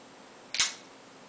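A Doormann switchblade knife snaps open with one sharp, bright click, close and crisp, then fades against a quiet background.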